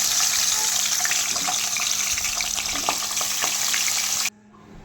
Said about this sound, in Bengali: এবার সর্ষের তেল গরম হয়ে গেছে আমার। মাছগুলো একে একে এবার ভেজে নিচ্ছি।